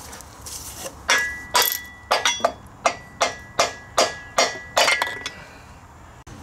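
Metal clangs ring out as the heavy flywheel and parts of a Kawasaki FR691V engine, seized after running without oil, are knocked during teardown: about a dozen sharp, ringing hits in quick irregular succession, close and fairly loud.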